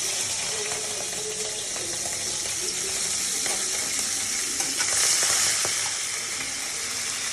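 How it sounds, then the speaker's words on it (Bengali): Shrimp frying in a pan for a Bengali shrimp curry: a loud, steady hiss and crackle of hot oil, close and continuous throughout, with faint stirring clicks and no talk. "প্রথমে আমি চিংড়ি মাছগুলো ভেজে নেব"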